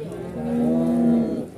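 A single drawn-out moo from Limousin cross cattle at a livestock market, close and fairly loud, rising and holding for about a second before fading.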